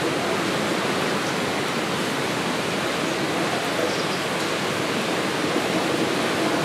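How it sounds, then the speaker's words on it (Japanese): Ocean surf rolls in a steady, dense wash of noise as heard from an outdoor hot spring bath on the east Izu coast, loud and unbroken with no voices. "波の音で目を閉じていても海を感じることができます。"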